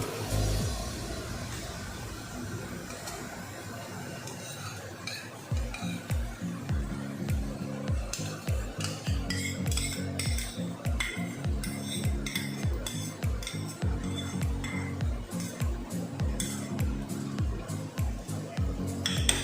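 Macaroni pasta being stirred with tomato sauce and vegetables in a pan over raised heat, with steady repeated scraping and clinking strokes and a soft sizzle, continuous and close throughout.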